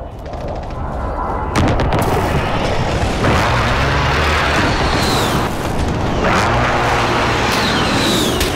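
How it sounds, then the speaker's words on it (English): Precision airstrike explosions in Modern Warfare, heavy booms and rolling blasts over a continuous roar of battle noise with gunfire and jet whooshes, loud and dense throughout. "Friendly precision airstrike on the way."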